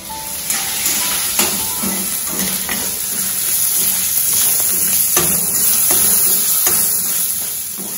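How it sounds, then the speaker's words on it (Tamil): Onions sautéing in oil in a pan for an omavalli thogayal, a steady soft sizzle and hiss with occasional stirring scrapes, close and continuous, no talk. "வெங்காயம் கொஞ்சம் வதங்கட்டும்"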